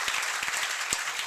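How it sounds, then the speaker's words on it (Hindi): Audience applause at an education event in Haryana, a steady wash of clapping hands filling the short moment, moderately loud and without talk over it. "एक बार जोरदार तालियां बजा दो"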